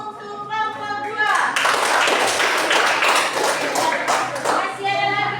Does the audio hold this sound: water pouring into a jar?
no